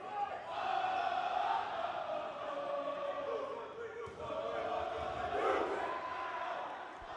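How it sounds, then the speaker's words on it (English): A crowd in a large arena voices a team cheer, a faint, distant swell of many shouting voices that rises and falls twice, with a commentator talking over it. "you can hear Ohio State going into their cheer"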